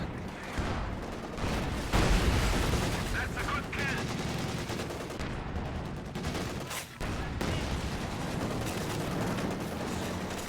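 Sustained battlefield gunfire in Company of Heroes 2, dense machine-gun bursts and distant booms rolling continuously at moderate loudness, with a commentator talking over it.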